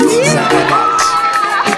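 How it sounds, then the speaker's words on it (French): A large audience cheers, shouts and applauds for the newly crowned Miss Burundi 2017 at a beauty pageant, with loud, dense crowd noise and high-pitched shrieks sustained throughout. "Des applaudissements, mesdames et messieurs, pour la nouvelle Miss Burundi."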